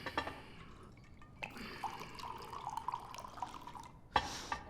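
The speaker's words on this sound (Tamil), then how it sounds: "முதல்ல இன்னொரு ரவுண்ட் ஊத்து." Liquor poured into a glass during a drinking scene in a Tamil film, heard as a soft trickle and drip that runs for a few seconds, with a brief louder splash near the end.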